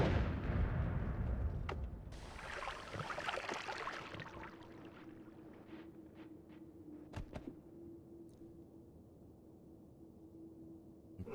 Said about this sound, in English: Let's just drop a bomb there.